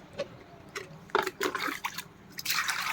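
Raw meat being washed by hand in water in a home kitchen, with irregular close splashes, drips and squishing bursts separated by short pauses, fairly quiet overall.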